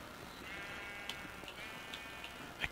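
Sheep bleat faintly in the Minecraft video game, a few short, thin, distant calls over a soft steady background hiss, with no talk.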